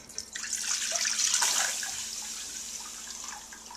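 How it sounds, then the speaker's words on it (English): Hot simple syrup being poured from one pot into another on a kitchen stove, a short liquid splash and trickle that swells and then tapers off, close and fairly quiet. "what I'm going to do is just transfer it into another pot so that there is no heat on it"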